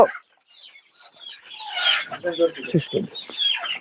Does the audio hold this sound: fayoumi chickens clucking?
yes